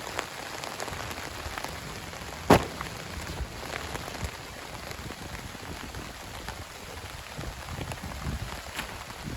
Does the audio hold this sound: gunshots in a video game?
no